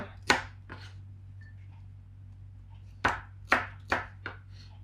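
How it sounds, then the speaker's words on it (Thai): Chilies and garlic are pounded in a mortar for a Thai stir-fry of Phuket fish balls. Sharp, close thumps land irregularly: two near the start, a pause, then a quicker cluster of four, over a low background hum. "พริกค่ะส่วนนี้เราเราก็จะเอาตำนะคะ ผสมกับกระเทียมค่ะ"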